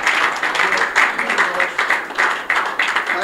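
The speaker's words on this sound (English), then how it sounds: "A round of applause" Audience applause following a speech, a dense continuous wash of clapping at steady moderate loudness, with no words spoken over it.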